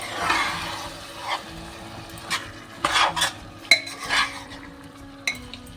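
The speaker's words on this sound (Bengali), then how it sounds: "এবারে চিকেনের টুকরোগুলো দিয়ে দেবো। হ্যাঁ, মিক্স করে দেবো।" A spoon stirs chicken pieces into pulao in a cooking pot, giving several scraping, clinking strokes against the metal with soft sizzling in between, close and fairly quiet.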